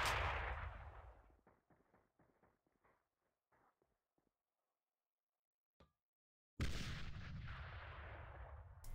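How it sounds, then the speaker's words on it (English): Grenades detonate in the online shooter AVA during a competitive demolition match, a loud opening blast decaying into a run of rapid crackling pops, then silence, a faint click, and a second heavy explosion with rumbling debris. "More nades come in."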